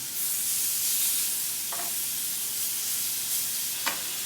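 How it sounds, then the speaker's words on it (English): Chicken sizzling on a grill partway through cooking, a steady loud hissing sizzle throughout with a couple of faint clicks and no talking. "the chicken's been grilling on the first side for about 7 minutes or so"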